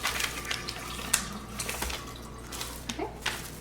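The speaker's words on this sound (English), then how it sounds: "We're gonna put a little bit more water in there." Cold water is poured into a kombucha mixture. The pour makes a steady, close splashing rush with small gurgles and drips, soft and continuous.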